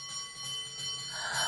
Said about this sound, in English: I'm going to play you a little bell ringing in the background here.